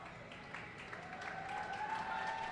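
Applause from the crowd at an international blind hockey game between Canada and USA, a faint steady patter of clapping over a distant hum.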